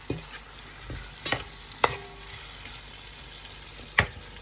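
Shredded beef being turned in a cooking pot, a low quiet sizzle punctuated by a few sharp spoon knocks and scrapes against the pot.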